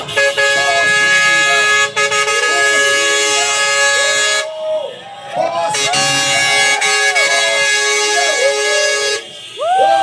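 Loud car horns honk continuously in a street protest against corruption, several overlapping tones sustained together with short breaks, voices shouting among them.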